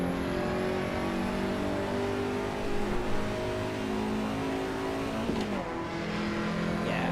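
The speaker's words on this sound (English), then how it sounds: "here we are in the Lancia Integrale. It's struggling, but it's going." A simulated Lancia Integrale engine strains under load in the BeamNG driving game, a steady, laboured drone that holds at a constant, moderately loud level with a brief rising rev and faint tyre noise near the end.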